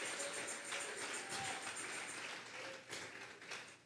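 Hand clapping from a church congregation during a Sunday service, a broad, dense patter of many hands that holds steady and moderately loud with no talk over it.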